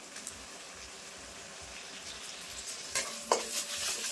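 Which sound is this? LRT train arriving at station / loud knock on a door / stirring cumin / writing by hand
stirring cumin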